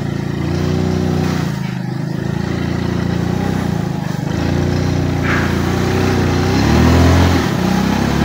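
Motorcycles revving on a road, a continuous loud engine drone with rising and falling revs that swells near the end.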